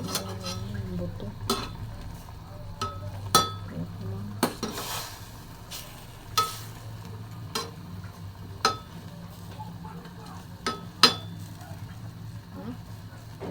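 A spoon scrapes and clinks against a pot while a Filipino home-cooked ulam simmers and sizzles, sharp metallic taps recurring every second or two over a steady low bubbling hiss, with voices talking now and then.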